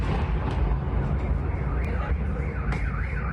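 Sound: powerful explosions

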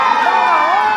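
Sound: audience shouting in planetarium show

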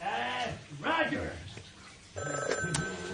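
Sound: telephone ringing, sound effect in a radio play

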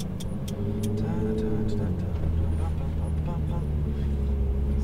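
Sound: Ferrari 458 Italia driving off with light throttle

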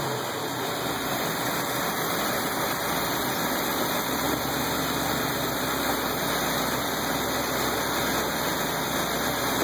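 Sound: 350 Chevrolet engine running after first start

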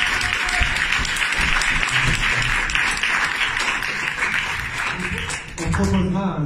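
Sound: audience applause

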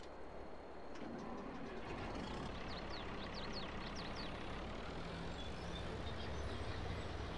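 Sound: truck with low loader trailer in Farming Simulator 22 video game

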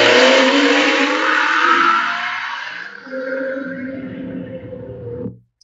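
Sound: AI-generated sound of fast car on highway

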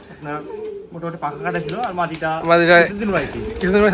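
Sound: pigeons cooing

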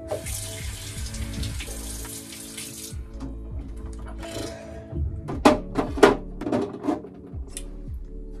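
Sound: water running from bathroom tap while brushing teeth

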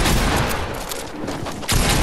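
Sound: shotgun gunfire in the video game Fortnite

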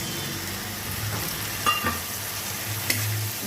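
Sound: soaked ground spices added to frying onions, stirred

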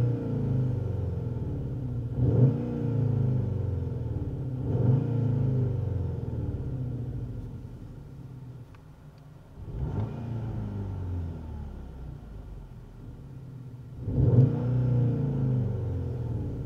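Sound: Skoda Octavia RS engine heard from outside

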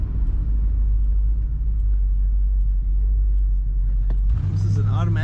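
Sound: 1969 Buick Skylark engine running

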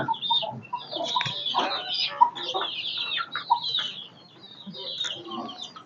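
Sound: chicken clucking

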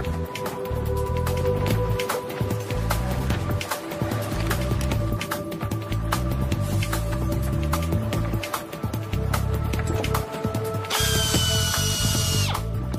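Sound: drill drilling holes for mounting brackets on bridge

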